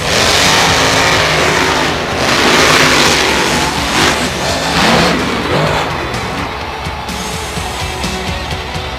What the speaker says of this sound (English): Here we go, the Monster Truck Final.